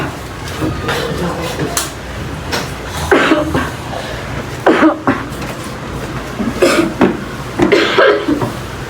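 A woman coughing heavily in repeated harsh bursts, close and loud, with some breathy sounds between the coughs.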